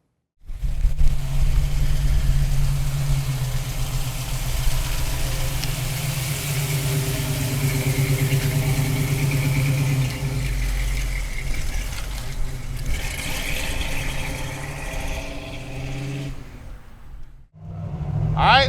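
A 1952 Chevrolet five-window pickup truck engine cranks and fires, then settles into a steady, loud close-up idle with a few light revs, running alone for most of the clip before a brief cutoff and restart near the end.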